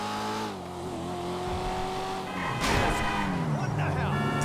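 Engine of a car driven in Grand Theft Auto V, revving and rising in pitch as it accelerates, loud and continuous with a swelling roar midway, while someone talks over it.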